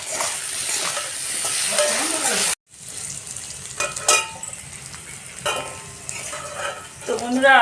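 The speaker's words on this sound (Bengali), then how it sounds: "কিন্তু আলুগুলো আমি ভেজে নেব লবণ দেবো" Salted potatoes fry in oil for a hilsa fish curry, a loud hissing sizzle cut by a brief pause, then spatula stirring and utensil clinks over continued frying.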